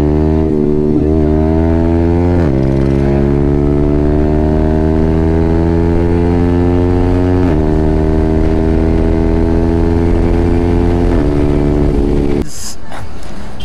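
A Yamaha R15M motorcycle fitted with an SC Project full exhaust system rumbles steadily close by, its deep droning note shifting pitch a few times before a brief clatter at the end.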